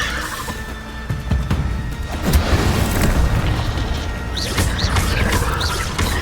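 Incendio fire spell cast in Hogwarts Legacy: a whooshing burst swells into a deep booming roar with crackling flames, amid scattered combat thuds.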